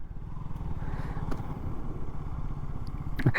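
A KTM Duke 200 motorcycle rolling over paddy spread on a road, its engine thrumming steadily nearby with a faint clatter near the end.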